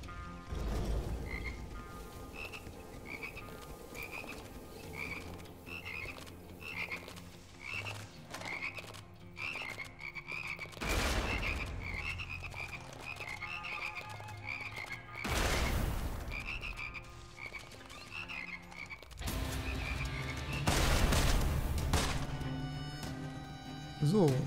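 Frogs croak in the video game Immortal Redneck, a run of repeated ribbity calls over game effects and occasional heavy impacts or shots, while someone talks in German throughout.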